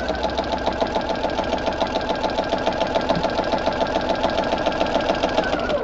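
A sewing machine with a walking foot stitches quilting through fabric in a steady, fast mechanical chatter, close and constant with no pauses.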